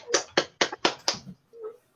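Five crisp, separate handclaps land in a loose rhythm, nearby and fairly quiet, at the end of a Korean online video-conference rally, followed by a faint brief tone.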